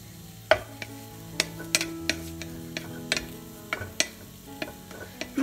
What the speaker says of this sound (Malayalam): ഇതും കൂടെ നമുക്കൊന്ന് വറുത്തെടുക്കാം